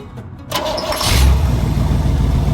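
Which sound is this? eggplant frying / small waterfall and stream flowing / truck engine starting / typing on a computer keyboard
truck engine starting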